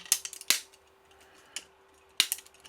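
Cutters snip tree supports off a 3D print, producing a few sharp, close clicks spaced irregularly with quiet gaps between them.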